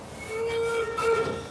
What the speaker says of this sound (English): then the choo-choo train goes past